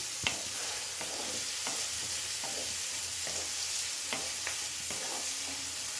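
Ten cut garlic cloves sizzle with onions in a pan while mushroom thokku is being cooked. A steady frying hiss runs throughout, broken by sharp scraping stirs that come every second or so, with no talking.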